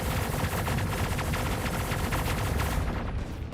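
Continuous rapid weapon fire from a spaceship in Star Citizen, a dense, loud, unbroken stream of shots that rattles on for several seconds with no voices.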